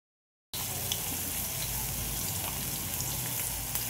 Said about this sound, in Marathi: कांदा हा गोल्डन फ्राय होऊपर्यंत तळून घ्यायचा आहे.